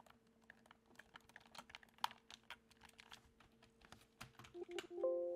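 Rapid typing on a computer keyboard while playing Spelunky Classic, a dense run of light, irregular key clicks, close and fairly quiet, with no talking.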